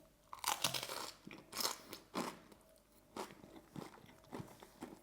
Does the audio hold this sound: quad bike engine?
no